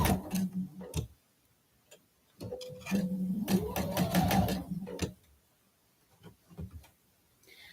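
A sewing machine stitches quilt fabric in short runs, its needle clattering rhythmically with a rising motor whir, separated by quiet pauses and soft clicks.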